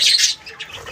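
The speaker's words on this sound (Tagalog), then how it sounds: "Lagi po akong dinadapuan ng mga alaga kong ibon." Pet birds squawking close by, a short burst of harsh, shrill calls followed by fainter chatter.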